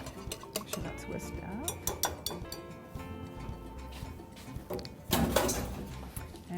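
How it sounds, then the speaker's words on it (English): Whisking batter for a basil, roasted pepper and cheese cornbread in a bowl: a run of quick clinking, scraping strokes of a whisk against the bowl, close and steady, growing louder and busier toward the end. "Make sure that's whisked"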